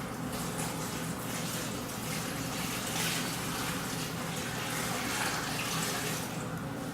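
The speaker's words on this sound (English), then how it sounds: "go ahead and pour the rest of your water on. And pour it over the filter" Water pours steadily over a coffee filter while making a large batch of cold brew, giving a continuous soft splashing rush that holds even throughout with no pauses.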